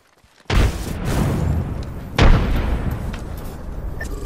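Frag grenade blasts in Apex Legends: two loud booming explosions about two seconds apart, each with a sharp onset and a long rumbling decay, loud and close, with no talk.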